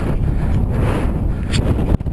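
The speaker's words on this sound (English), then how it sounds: "Awful windy." Strong wind buffets the microphone on an exposed mountain ridge between Twmpa and Waun Fach, a loud continuous rumbling roar with gusty surges throughout and a brief dip near the end.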